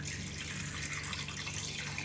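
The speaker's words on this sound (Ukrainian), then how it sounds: "І по горло банки наливаю теплу воду." Warm water pouring steadily into a cloth-lined pot around jars of marinated bell pepper, a continuous close splashing rush with no pauses.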